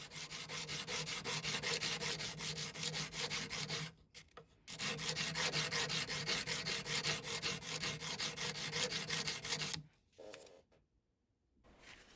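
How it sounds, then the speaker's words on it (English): A sanding stick rubs back and forth across the back of a metal resin-inlay pin, a steady rapid rasping scrub close up that pauses briefly around four seconds and stops near ten seconds. "Now I'm going to flip the piece over and sand the back"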